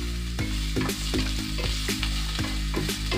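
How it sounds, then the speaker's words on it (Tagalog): Ginger sautéing in a hot pan, a loud steady sizzle and fry broken by repeated sharp clinks and scrapes of a utensil stirring against the metal. "gigisahin lang natin ang ating luya"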